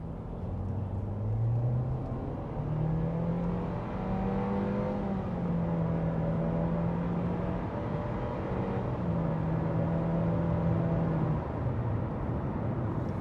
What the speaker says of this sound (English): There is a bunch of wind noise in here and a little bit of road noise